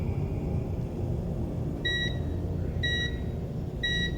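Hospital patient monitor giving three evenly spaced electronic beeps about a second apart, ringing clearly over a steady low hum and room rumble.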